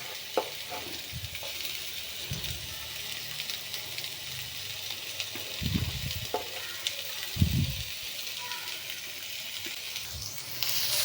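Onions and capsicum fry in a pan, a steady sizzle running throughout with a few louder stirring scrapes and bumps breaking through.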